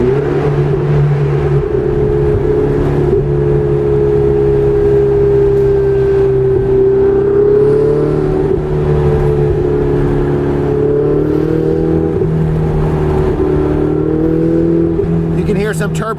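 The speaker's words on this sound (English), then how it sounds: "You can hear some turbo whoosh there." A stock mid-engine Ferrari 488 Spider drives over bumpy roads, its engine holding a loud, steady hum with a faint turbo whoosh and blow-off hiss from the twin-turbo V8 layered in, close and continuous.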